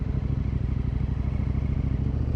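A Honda Rebel 300 motorcycle engine drones steadily with a low, even rumble and pulsing exhaust, loud and continuous throughout, heard from a riding motorcyclist's position with wind noise.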